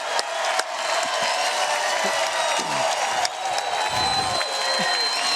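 A pickleball crowd cheers and applauds at a 2019 mixed pro match. Dense, steady clapping and excited whoops carry on without a break, with a brief voice surfacing in the mix.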